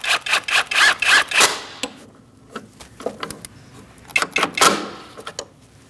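Ratchet clicks and metallic scraping come in quick bursts as water pump bolts are snugged up on a 2002-2006 Toyota Camry 2.4L L4, close by, with pauses between the runs of turning.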